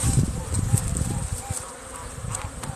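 Honeybees fly in at a hive entrance in mid-November, a steady close buzzing hum with some rustle underneath, while a person talks over it.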